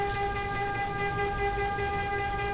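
A sustained horn blares in the Shenmue video game, a steady tonal honk held continuously over a rumbling background.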